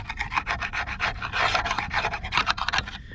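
Brush scrubbing grime off a fan clutch from a Chevrolet 454 big-block motorhome engine, rapid rhythmic rasping strokes close up, loud and continuous.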